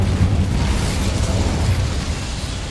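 Incendio fire spell cast in the Hogwarts Legacy video game: a loud, sustained roaring whoosh of flame with heavy low rumble, steady for nearly three seconds and fading slightly at the end.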